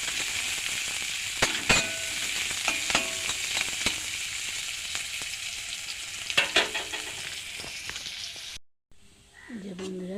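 Onions sizzle in hot oil in a wok, with a continuous hiss broken by a spatula's scraping and clinking stirs; the frying cuts off near the end and a voice briefly speaks.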